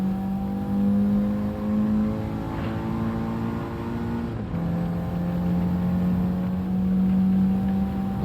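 A race car engine in Gran Turismo 7 holds a loud, steady drone, then drops briefly midway as the gear shifts and climbs again under renewed acceleration, with no talk over it.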